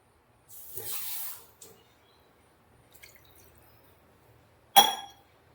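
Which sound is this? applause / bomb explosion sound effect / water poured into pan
water poured into pan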